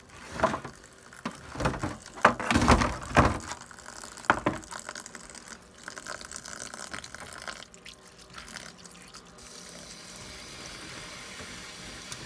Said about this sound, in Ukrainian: Потім набираю сюди теплої води, ставлю полощу зерно.